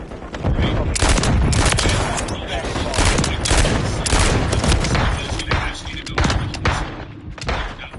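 Sustained, loud gunfire from Call of Duty Modern Warfare 3, with rapid automatic bursts and heavy thuds overlapping for several seconds, set against a dense battle soundscape with game voices in the background.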